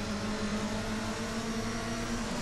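A Seat car drives in Assetto Corsa, its engine giving a steady, even hum at constant pace with no voices over it.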